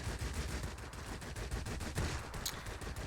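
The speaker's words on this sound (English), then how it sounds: "how long does it take to overheat these cannons?" Cannons on a Ju 87 D-5 Stuka fire in World of Warplanes, a continuous rapid rattle of gunfire over a rumbling engine drone, loud and sustained throughout.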